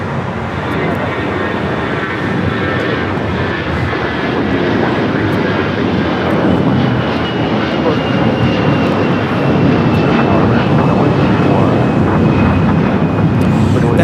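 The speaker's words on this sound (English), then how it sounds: "2023 taking off to Charlotte on the A321" An American Airlines A321 takes off from LAX bound for Charlotte, its engines a loud, steady roar with a faint high whine that fills the whole stretch without a break.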